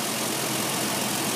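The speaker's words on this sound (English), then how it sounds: "The engine is very, very quiet." A Toyota Tacoma 4WD V6 engine fitted with an HHO hydrogen dry cell idles in a steady, smooth, even drone with no talking over it.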